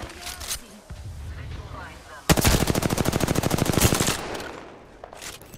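Rapid automatic gunfire in the battle-royale shooter Apex Legends, a loud sustained burst of evenly spaced shots lasting about a second and a half, with quieter scattered game noise and shots before and after.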